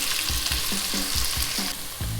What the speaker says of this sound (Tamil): ரெண்டாவது நம்ம எடுத்து வச்சுருக்கிற வெங்காயத்தை பொடிசாக நறுக்கி வச்சதை போடுறேன்.